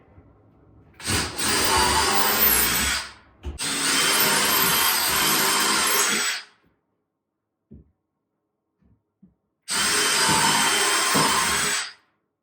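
A power screwdriver drives screws into a drywall patch, running in three loud, close whirring bursts of a few seconds each with brief quiet gaps and faint clicks between them.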